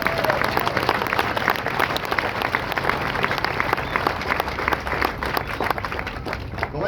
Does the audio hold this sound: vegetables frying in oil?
no